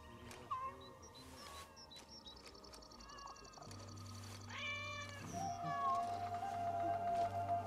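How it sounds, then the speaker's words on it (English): Cats in the Assassin's Creed Shadows video game meow in a few short, clear calls over quiet in-game ambience and soft musical tones, with no talk. "Cute little kitty cats."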